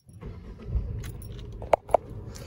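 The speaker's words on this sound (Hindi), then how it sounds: "गाड़ी स्टार्ट कर लेता हूँ" Keys jingle as a Tata Punch is readied to start, with two sharp metallic clinks standing out near the end over a low idle hum; no engine crank is clearly heard.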